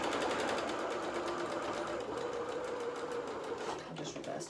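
A sewing machine stitching straight down the seam of a doll's dress: a rapid, even mechanical whirring and needle clatter running continuously, slowing slightly near the end.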